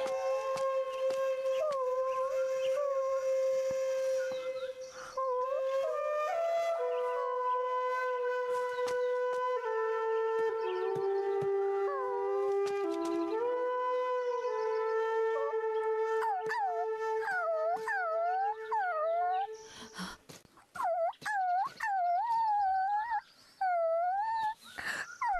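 A puppy in an animated Buddhist film howls and whimpers with long, drawn-out wailing cries that bend in pitch, then shorter rising whimpers near the end. The cries are loud and close, with no talking.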